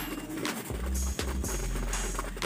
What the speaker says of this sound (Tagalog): Ayan mga kalapatids, mga stock.